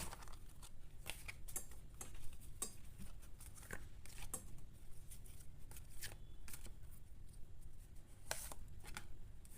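Tarot cards are shuffled by hand in quick, dry bursts of papery riffling and soft slaps, close to the listener with no talk.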